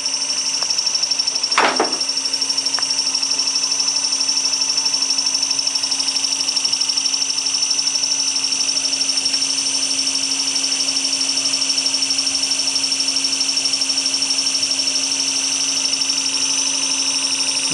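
A three-phase motor on an Anshuman XPO-VVVF variable-frequency drive trainer runs at a steady speed. It gives a constant, even electrical hum with a high whine. Near the start there is one brief clunk.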